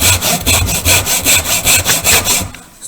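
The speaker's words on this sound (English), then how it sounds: "Get our tenon saw. We'll make our two cuts on the sides." A tenon saw cuts wood held in a vise for a mirror frame, giving about a dozen loud, even back-and-forth rasping strokes up close before stopping.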